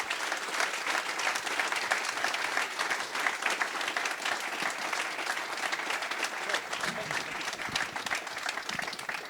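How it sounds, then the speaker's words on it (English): A conference forum audience applauds panelists at the close of a panel, with dense, steady clapping from a sizable crowd sustained throughout, fairly distant and even. "If you could all please join me in giving a round of applause to the panelists."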